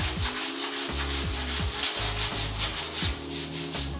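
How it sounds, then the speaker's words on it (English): Small hand block sanding a fiberglass crack and hole repair, a steady close rasping scrape repeated in quick back-and-forth strokes with slight pauses between passes, no voices. "let's go ahead and sand this. And because it's a fairly small repair, we're just going to use a regular small block."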